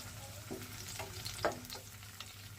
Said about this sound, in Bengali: পেঁয়াজটা হালকা বেজে নিতে হবে